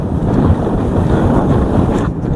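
Steady rushing wind and water roar from riding on a sofa towed across the sea by a speed boat near Bentota, Sri Lanka, loud and continuous with no talk.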